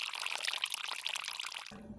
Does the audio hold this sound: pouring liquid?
yes